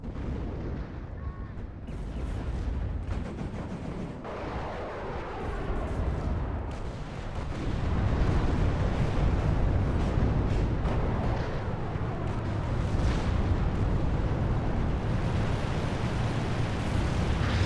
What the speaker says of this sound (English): And you see the artillery coming in. And there's the nuke.